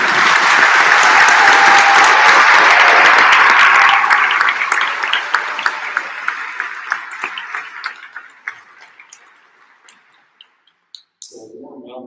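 Seniors at a 2022 public and international affairs graduation convocation receive loud, dense applause that thins gradually into scattered individual claps before dying away, with a brief murmur of voices at the end.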